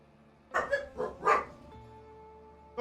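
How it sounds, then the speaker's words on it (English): Dogs barking nearby, a quick cluster of four or five sharp yapping barks, then a quieter lingering tone before silence. "Doggos."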